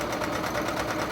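A sewing machine runs continuously while back stitching an apron, giving a close, steady mechanical whir with no pauses over the brief moment.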